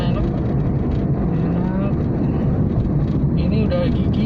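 Inside a 2013 Nissan Almera sedan, a former taxi, the engine drones steadily as the car pulls forward at around 2000 rpm. The low, continuous rumble and road noise run under someone talking.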